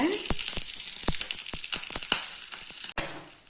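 Mustard seeds, curry leaves and small chillies fry in hot oil for a groundnut chutney tempering, giving a steady close sizzle broken by sharp irregular pops and crackles as the seeds burst; no one speaks.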